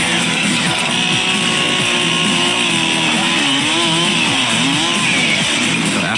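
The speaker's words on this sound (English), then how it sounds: "after the chainsaw passes through it" A chainsaw snarls loudly and continuously as it cuts through a dummy loaded with blood bags and goo on a film set, its engine pitch rising and wavering as it bites, close and dominant throughout.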